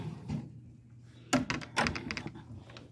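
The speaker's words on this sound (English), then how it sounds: "So I'll close the door." A door is pushed shut in a home, two sharp thuds close together followed by faint rattling, with a voice murmuring faintly beforehand.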